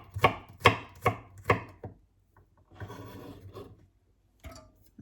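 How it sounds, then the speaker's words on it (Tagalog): A knife slices through garlic on a board in a kitchen, with four quick, crisp cuts followed by softer scraping and a few more isolated knocks, close and clear with no talking. "Ayan, bawang, hiwa-hiwain natin."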